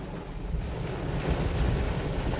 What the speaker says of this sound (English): I'll be out in the rain for a while.